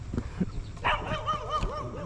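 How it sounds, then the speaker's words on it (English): A dog barks in short yips and woofs at birds overhead, fairly faint and somewhat distant outdoors on a farm beside a John Deere 4WD 7520 tractor. "I got a dog that barking at the birds up there."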